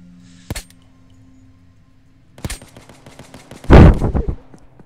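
Video game gunfire: a sharp single shot, then after a pause another crack followed by a loud, dense burst of rapid shots with ringing metallic tails, close and punchy.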